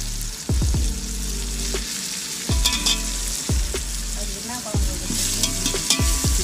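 Steady sizzling of tomatoes frying in a pan, punctuated by repeated sharp scrapes and clacks of a utensil stirring.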